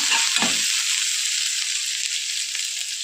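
Mustard seeds, cumin, garlic and ginger spluttering in hot oil, a loud, dense, continuous sizzle close up with one brief low clatter near the start and no talking.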